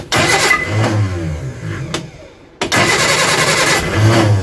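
Reliant Supervan engine cranked on half choke during restoration: a loud starter churn catches into a running engine, falters into a brief lull, then fires again and keeps running, close by with no talk.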